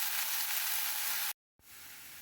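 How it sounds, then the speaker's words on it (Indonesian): Beef stir-frying in a hot pan for a simple home-style Hong Kong dish, a steady loud sizzle that cuts out briefly and then resumes. "dioseng sampai harum, nanti masukkan daging sapi, kasih bumbu"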